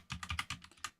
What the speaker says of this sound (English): you go in, you type in your password